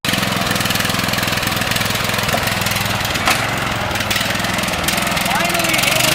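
A lawnmower tractor engine runs steadily close by, a loud continuous rumbling drone with a rapid regular pulse throughout and brief knocks and clatters on top.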